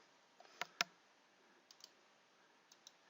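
Two sharp mouse clicks close together near the start, followed by a few fainter clicks later, all quiet and isolated against a low background hiss, from someone working through Windows Server network settings.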